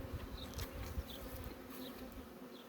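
Honeybees buzzing around a hive during a queen introduction, a faint steady drone with small rising whines as individual bees fly close past.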